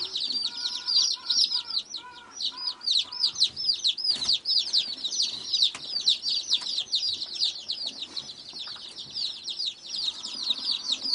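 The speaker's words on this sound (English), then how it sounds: "So this is their first opportunity in life besides just chirping." Newly hatched mail-order baby chicks chirping in a coop, a dense, continuous chorus of shrill, rapid peeps from many birds close by, with occasional soft thumps and rustles underneath.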